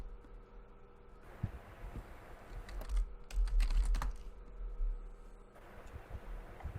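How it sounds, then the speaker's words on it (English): Steady, close-up clatter of keys on a computer keyboard, with irregular clicks that bunch into a denser burst midway and then thin out again, with no voices. "The typing."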